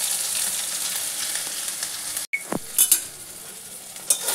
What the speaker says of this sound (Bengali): এগুলোকে ভালো করে আগে একটু নেড়ে নেব।